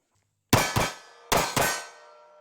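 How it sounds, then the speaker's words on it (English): Ejected brass casings from a Smith & Wesson M&P Shield X pistol land on a hard surface, giving four sharp metallic clinks in two quick pairs, each ringing briefly before fading, close and clear with no talk. "Watch out, that brass comes right back, I guess."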